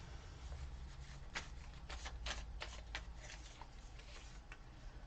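Message cards being shuffled by hand: a soft, close run of quick papery riffles and flicks, faint and without speech.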